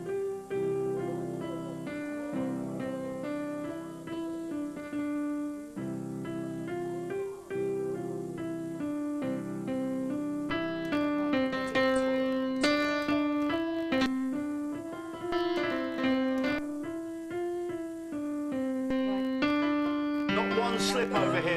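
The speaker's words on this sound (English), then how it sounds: "I say we're going to hear Beethoven's Ode to Joy." A piano plays Beethoven's Ode to Joy live in a breakfast television studio, a steady melody with chords, loud and continuous throughout without talk.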